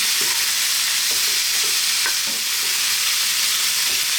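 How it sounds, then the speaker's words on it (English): Ground pork meatballs fry in a pan with a steady, dense sizzle, broken by a few soft scraping stirs spaced through the stretch; close and fairly loud, with no voices. "Fry it around in the pan for another 2 minutes."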